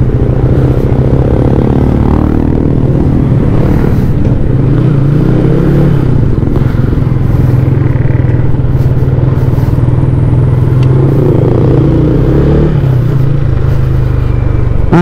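A Yamaha Sniper 155 motorcycle engine drones loudly and continuously while riding, close to the microphone with steady revving and slight rises in pitch, no voices over it.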